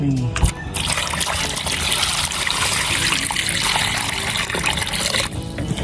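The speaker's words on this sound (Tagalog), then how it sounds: "Iyan po ay pangatlong hugas na." A fish head, a dorado for sour tamarind soup, is rinsed under running tap water, a steady close trickle and splash filling the whole stretch with a brief voice near the start.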